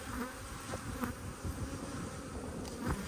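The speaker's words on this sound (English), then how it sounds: "there seems to be a hell of a lot of bees around now" A swarm of honey bees from a colony more than ten years old, living inside a solid chimney, buzzes continuously nearby. Scattered louder passes come as individual bees fly close, and no one speaks.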